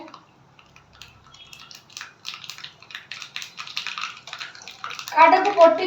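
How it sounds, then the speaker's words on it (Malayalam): Mustard seeds hit hot oil while making sambar powder, with faint scattered crackles that build into loud, dense sizzling and popping at the end. "കടുകൊന്ന് പൊട്ടട്ടെ."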